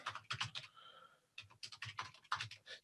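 Rapid typing on a computer keyboard, close and fairly loud, in irregular bursts of clustered keystrokes with a short pause near the middle and no talking.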